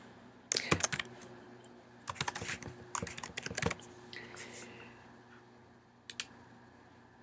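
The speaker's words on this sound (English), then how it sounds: "Now here you type in a name." Quick bursts of keystrokes on a computer keyboard while entering a project name in Xcode, with short pauses between clusters and soft isolated clicks toward the end, close and fairly quiet.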